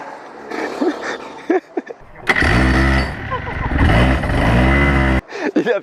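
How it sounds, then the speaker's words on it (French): A small kart engine on a racing circuit catches and revs with a buzzing, rising-and-falling drone for a few seconds, with people talking before and after. "il a allumé le moteur"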